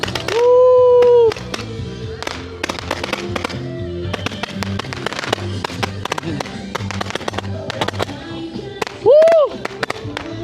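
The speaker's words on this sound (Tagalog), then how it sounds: "May fireworks dito." Fireworks at a New Year celebration crack and pop in rapid, sharp bursts, with a couple of whistling rockets rising, loud and close, while people cheer and call out.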